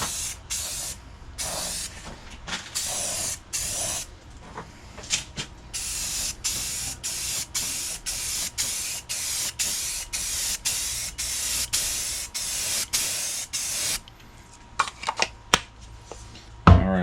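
A spray can lays the final coat of paint on a Mazda MX-5 headlight cover in short, sharp hissing bursts, each a second or less, repeated rhythmically at close range with brief gaps between.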